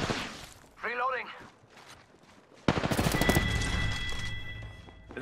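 Rapid automatic gunfire from the video game Apex Legends erupts suddenly and loudly, sustaining a dense burst of shots after a stretch of game sounds and voice chatter.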